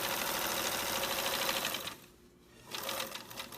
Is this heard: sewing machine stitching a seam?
yes